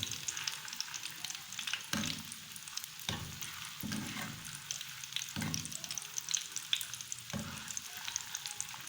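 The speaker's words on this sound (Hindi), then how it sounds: "स्लोली स्लोली इनको हिलाएंगे हम ताकि ये एक तरफ से हो जाए।" Fish bowler rice balls frying in a pan, a soft continuous sizzle with several distinct scraping strokes as they are gently stirred, close but fairly quiet, no talking.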